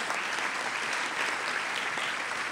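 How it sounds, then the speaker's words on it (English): A round of applause for Governor's Council members at an evening program in Newark fills the room, a thick, sustained crowd clapping that stays loud and even throughout without letting up. "Give them a round of applause, please."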